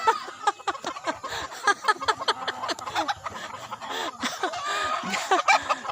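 Chickens cluck busily nearby, a rapid overlapping chatter of short calls that continues throughout without pause.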